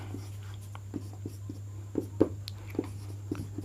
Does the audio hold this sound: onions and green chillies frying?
no